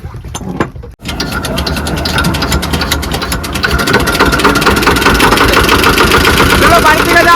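A boat engine in the Sundarbans catches after a brief cranking rattle, then settles into a loud, close, steady mechanical idle that grows slightly stronger.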